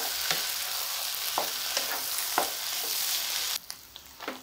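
Boiled spinach is stirred into mixed vegetables frying in a pan for a winter mixed sabzi, giving a steady close sizzle with periodic scraping stirs and no talk.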